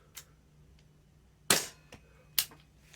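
Three sharp, crisp shots from a Tokyo Marui MWS gas blowback airsoft rifle fitted with a Guarder airtight rubber gas router, fired singly with short gaps, each a loud snapping crack with a quick decaying tail.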